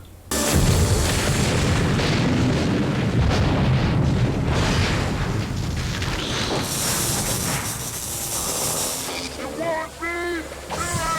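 A Predator's plasma blast strikes in a film scene, a loud booming impact with a rolling, crackling roar that decays over several seconds, followed by quieter effects and brief vocal sounds near the end.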